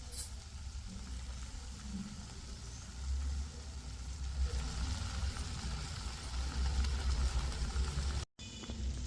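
Coriander, curry leaves and other ingredients frying in a pan for an egg and prawn curry, a steady soft sizzle running throughout at low volume with a brief cutout near the end.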